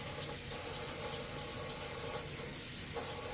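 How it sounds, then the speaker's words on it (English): Warm water pours steadily from a tap into a bowl while preparing tortilla dough, a faint, continuous splashing rush with no talking over it. "we're going to add 1 cup of warm water"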